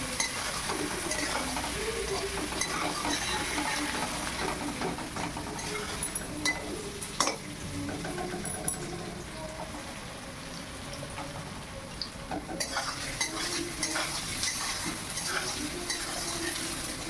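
Onions sizzle steadily in a pan while cooking mutton kosha, with occasional sharp clinks and scrapes of a spoon stirring against the metal.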